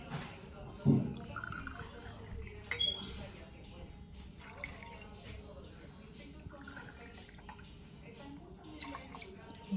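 Tequila shot poured from a bottle into a glass standing in for a shot glass while mixing a tequila sunrise at home, a short liquid splash near the start and then quieter handling, with someone talking.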